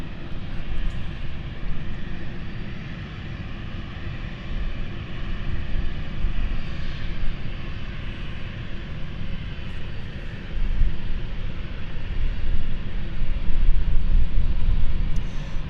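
A British Airways Embraer 190-100 passenger jet departs London City Airport, its engines giving a steady broadband roar from a distance that builds gradually louder toward the end.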